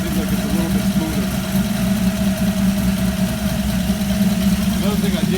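A Ford 200 inline-six engine with FiTech fuel injection idles steadily and close by, a smooth continuous low rumble with even engine vibration and no other sounds.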